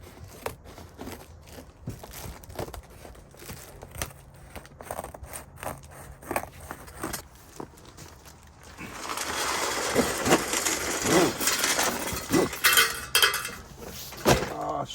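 Loose metal screws for assembling galvanized raised garden beds clatter and scatter, sparse clicks at first, then a dense, louder jingling spill in the second half.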